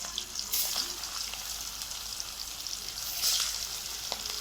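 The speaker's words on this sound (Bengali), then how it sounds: "তেলটা গরম হয়ে গেছে, আমি এক এক করে একটু ভাজবো" Fish pieces fry in hot oil in a black wok over a wood fire, giving a steady close sizzle with brief louder spatters and a faint clink of stirring.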